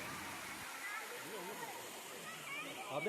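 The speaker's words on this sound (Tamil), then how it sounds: "இந்த ஆரிய ஃபால்ஸு அந்த மாதிரியான ஒரு அற்புதமான அருவிங்க" Aare Falls sends down a steady, rushing roar of falling water that continues throughout while someone talks over it.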